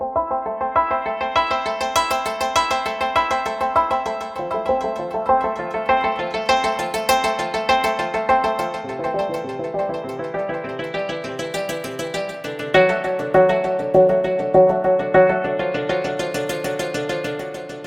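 A strung-up guitar sequence from Sample Logic's Cinematic Guitars 2 repeats in rapid plucked notes, swelling and fading in waves of bright decaying tones, moderately loud and alone throughout.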